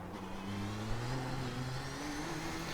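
The turbocharged engine of a Nissan GTP ZX-T race car in iRacing drones steadily under throttle, its pitch slowly rising as it builds revs, close and alone with no talk.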